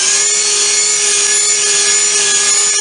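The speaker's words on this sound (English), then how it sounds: "I also use the belt sander to sand the seams smooth" A belt sander runs continuously on wood, smoothing seams and plugs on a kitchen pantry cabinet, with a loud, steady whine and a sustained abrasive hiss throughout.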